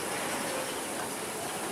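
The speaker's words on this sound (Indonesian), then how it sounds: "Kereta lori melewati jalur segitiga pembalik yang pertama mengarah ke kiri." A sugarcane lorry train on the Semboro–Gumukmas sugar mill line rolls across a turning triangle track, giving a steady, loud broadband rumble and hiss with no gaps throughout.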